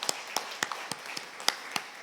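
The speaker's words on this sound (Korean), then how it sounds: "우리 축복의 박수 해주시면 감사하겠습니다" A small church congregation clapping in a steady, sparse rhythm to bless members celebrating birthdays, about eight distinct claps heard in quick succession, fairly quiet and without talk.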